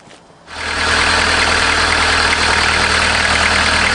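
A diesel engine newly installed in a caravan starts up after a brief quiet moment and settles into a loud, steady idle with a close, rumbling hum.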